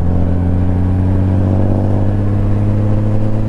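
A 2018-or-later Honda Goldwing with a Remus exhaust, its valve set 40% open, idles or runs at a steady, loud, deep burbling note that holds without change throughout.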